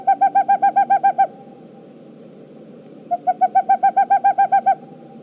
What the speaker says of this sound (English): Boreal owl.